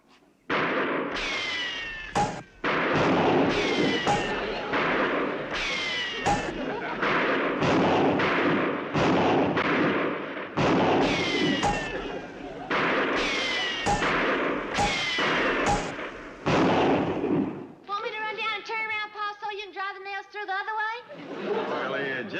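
Rifle shots fired at a target about 100 yards off, a rapid series of loud, sharp cracks at close range with brief gaps, followed by a short different tonal sound at the end.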